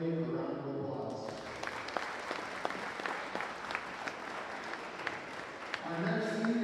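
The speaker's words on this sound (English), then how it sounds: "Let's give Lily a round of applause." A gym crowd at a high school volleyball senior night applauds a graduating player with a steady burst of clapping and a few sharper individual claps, framed by an announcer's voice at the start and end.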